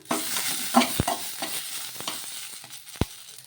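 A spoon stirs green chillies, mint and tamarind in a hot pan, giving a run of scraping, clacking strokes over a low sizzle, with a couple of sharper knocks against the pan.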